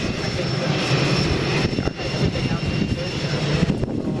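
A two-seat airplane's engine drones steadily and loudly in flight, with a dense, constant roar and whine heard from inside the cockpit and no pauses.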